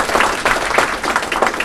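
Brief applause for a runner who placed in a local race, a small crowd clapping in uneven bursts at moderate distance for under two seconds.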